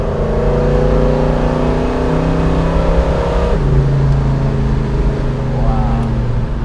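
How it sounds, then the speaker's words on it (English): A 1970 Chevrolet Chevelle SS 454 V8 exhaust roaring loudly under acceleration from inside the car, with a steady rising drone, a gear change partway through, and continuous engine noise throughout. "The exhaust is working fabulously."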